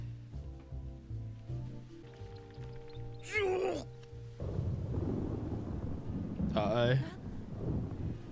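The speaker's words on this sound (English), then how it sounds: "There's a storm." Thunder rolls during a stormy scene in the One Piece anime, with two loud, sweeping crashes over a steady wash of wind and rain. A brief spoken exclamation comes just before the first crash.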